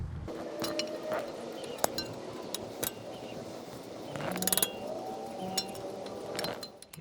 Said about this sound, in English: So now I'm going to be removing this carter pin.